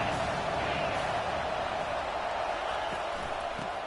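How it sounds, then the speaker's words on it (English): Steady crowd roar in a football video game as fans cheer on the defense before a third down, a dense continuous wash of noise with no distinct peaks. "Big third down as the crowd gets behind this defense."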